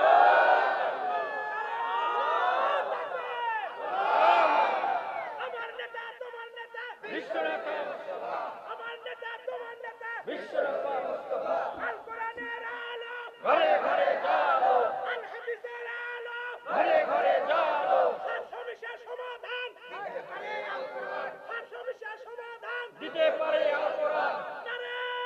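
A large crowd at an Islamic religious gathering shouts a takbir chant in loud, repeated bursts of massed voices, each lasting a couple of seconds, separated by short pauses, close and dense throughout.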